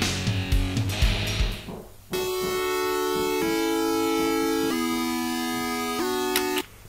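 Synthesizer tone from the opening of a song: sustained buzzy chords, loud and close, step through several pitch changes after a brief muddled start.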